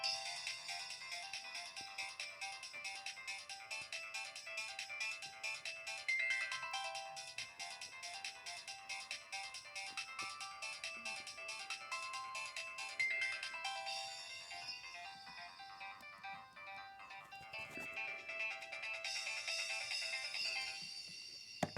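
Nokia 3120 and 1650 phones play their electronic ringtones, a bright repeating melody heard alone and clearly, shifting to different tunes partway through.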